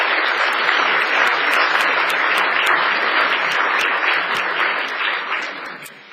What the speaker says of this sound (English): So I'd like to ask everyone to join me in a round of applause for the producers who are participating.